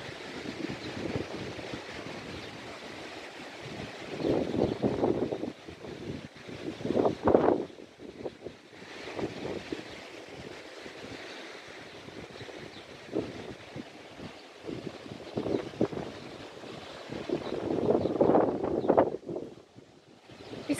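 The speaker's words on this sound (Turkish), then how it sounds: "Elimden telefonu götürecek rüzgar." Strong, dusty wind blowing outdoors buffets a handheld phone microphone, producing continuous rumbling wind noise with repeated louder gusts swelling and fading over about twenty seconds, with no speech.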